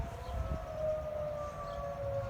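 A tornado warning siren sounds during a test in Boone County, Illinois, heard from a distance as a steady, sustained wail over outdoor background noise.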